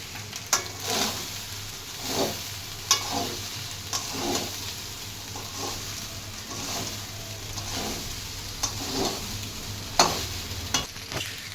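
Cooked cumin rice and sugar stirred in a pan for lemon rice, a steady soft sizzle under repeated scraping strokes of a spoon, about one every second, close and moderately loud, with no talking.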